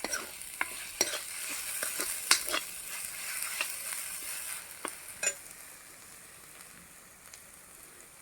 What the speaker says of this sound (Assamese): এতিয়া এইখিনি অকণমান লৰাই দিওঁ